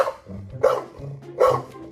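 A dog barks twice in sharp, close, fairly loud yaps spaced under a second apart, in a Minecraft parody skit, over a faint low background, with no talking.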